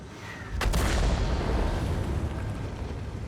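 Tank cannon fire in a tank video game, one sharp, loud boom about half a second in, followed by a long rumbling echo that fades slowly.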